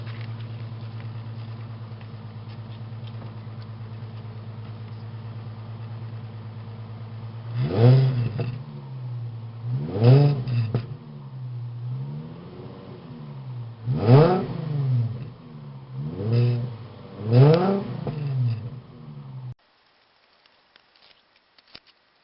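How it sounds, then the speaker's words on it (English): A warmed-up BMW E39 car engine idles steadily, then is revved five times in quick, separate bursts that rise and fall back to idle, before the sound cuts off near the end. "Give you a quick rev."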